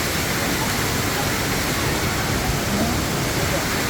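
Waterfall in Vietnam: a steady, dense wash of falling water roars evenly throughout, close and loud, with no change in level.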